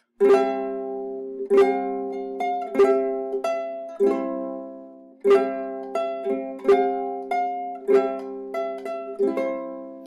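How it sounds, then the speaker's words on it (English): Mandolin chords ring out, strummed one at a time in an unhurried rhythm, each chord decaying before the next, clear and close. "beautiful mandolin chords if you want to play this song with even more harmony."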